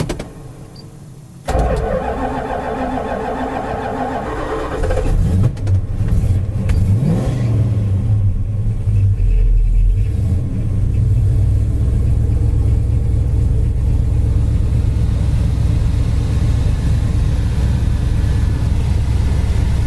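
A 1969 Plymouth Road Runner sits with its engine running after a start, a deep, steady idle that wavers slightly as the air conditioning loads it, loud and close with no talk.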